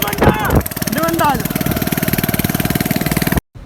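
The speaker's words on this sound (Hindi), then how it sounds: "तो जानी अब तुम्हारा भाई बैठा पड़ा है किराए वाली मोटरसाइकिल के पीछे" A rented motorcycle's engine runs at a steady, rapid idle-like throb, loud and close, with a voice talking over it early on before the engine carries on alone and cuts off near the end.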